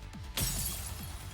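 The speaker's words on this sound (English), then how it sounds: "The wall shatters." A wall shatters in a fantasy video game with one sudden, loud crash of breaking debris and a bright crackle of fragments, then a rumbling tail that fades away with no speech over it.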